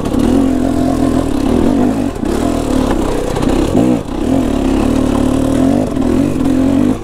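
A KTM motorcycle engine revving hard while being ridden in second gear over rough ground, a loud continuous close droning roar with brief throttle dips and surges, no talk.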